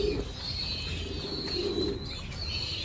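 Racer pigeons coo softly inside a busy loft, with constant low murmuring and rustling of moving birds over a steady background hum.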